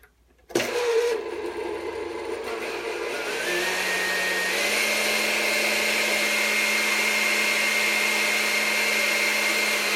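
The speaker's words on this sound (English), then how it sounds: "You can see the mixer on there." Oster kitchen mixer with beaters switching on with a click, then a loud steady electric motor whine that rises in pitch as it speeds up and settles into a constant hum.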